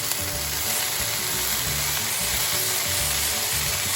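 Amaranth greens (note shaak) stirred as they fry in a pan, with a steady dense sizzle running throughout and soft scraping stir strokes over it.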